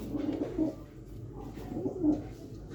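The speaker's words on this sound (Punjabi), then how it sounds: "ਇਹ ਕਬੂਤਰੀ ਆ ਬਈ" A female pigeon coos softly and close by, giving a few low, rolling calls in two short bursts with quiet background between them.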